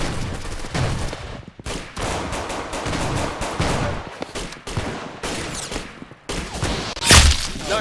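Gunfire in the video game Arsenal: loud, rapid bursts of shots come in dense volleys with brief gaps, ending in a sharper crack near the close, with no one talking.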